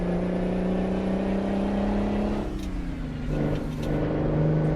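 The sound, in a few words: truck engine revving in American Truck Simulator video game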